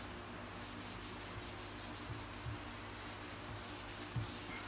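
Light scrubbing of a walnut cabinet with vinegar during stripping, a soft, steady rubbing texture with faint rhythmic strokes and a few small knocks, quiet and close, no talk.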